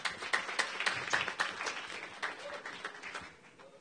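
An audience at the iCoin Summit 2018 claps and applauds for a winner, a lively burst of many hands that peaks early, then thins and fades over a few seconds.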